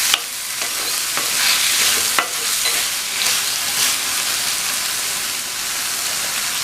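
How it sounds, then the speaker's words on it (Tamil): Drumstick pieces stirred into frying masala in a pan, a steady crackling sizzle punctuated by several sharp spoon scrapes and knocks, with no voices. "முருங்கைக்காயை சேர்த்துட்டு நல்லா ஒரு தடவை இந்த மசாலாவையே பரட்டி விட்டுருங்க."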